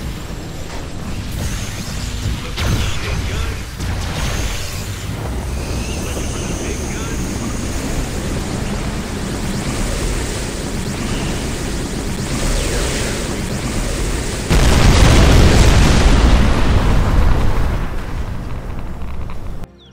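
A sustained roaring, rumbling blast with heavy low-end noise, swelling louder near the end: a particle cannon firing continuously in Command & Conquer Generals.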